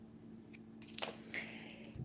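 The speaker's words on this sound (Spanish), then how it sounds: "Aquí voy a recortar." Scissors cutting bracelet thread, a few short crisp snips and blade clicks close by, quiet against a faint steady hum, with no talking during the cuts.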